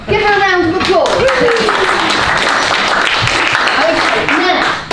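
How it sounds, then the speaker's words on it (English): An audience at a cookery demonstration claps in brisk, dense applause that runs for several seconds, mixed with a voice talking over it. "Give her a round of applause."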